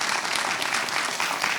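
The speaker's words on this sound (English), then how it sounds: "my folks from Seattle, Awale and Muhammad, please give them a round of applause, please." Steady applause from an audience at an African community economic development anniversary event, dense and continuous clapping filling the space without any talk over it.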